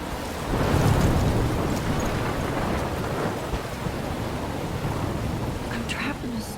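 Storm in the video game Life Is Strange, with heavy rain roaring steadily throughout and low thunder rumbling, loud and dense, with no voices over it.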